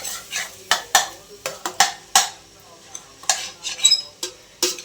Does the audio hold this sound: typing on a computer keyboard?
no